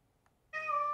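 A pet cat gives one loud, clear meow close by, starting abruptly after a moment of near silence and holding briefly.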